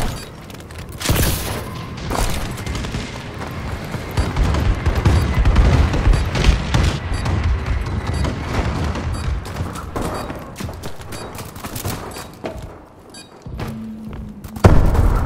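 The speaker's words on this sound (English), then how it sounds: "Bombing run incoming." Bombing run in Call of Duty Advanced Warfare, a sustained barrage of loud thumping explosions and gunfire rolling on for many seconds, easing off near the end.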